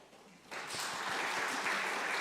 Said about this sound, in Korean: 우리 박수 한번 치고 갑시다.